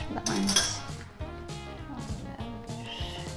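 A metal fork clinking and scraping against dishes at a table, with a series of sharp, close ringing clinks at irregular intervals.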